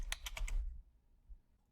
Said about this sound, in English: if I start typing the supplier name